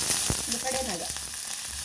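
Onions fry in a pan for a Mangalore-style chicken dish, a steady hiss of sizzling oil with a few soft stirring scrapes, close and unaccompanied by speech.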